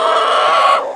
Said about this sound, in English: Who said hens are not noisy? They're a little noisy, guys, at times.